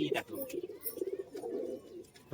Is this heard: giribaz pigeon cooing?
yes